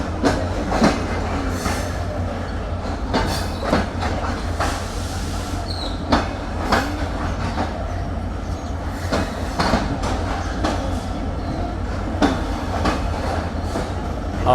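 The Sagardari Express rolls into Khulna railway station with a steady rumbling clatter of wheels over rail joints, rhythmic clicks and occasional squeals, heard from inside the train with no speech.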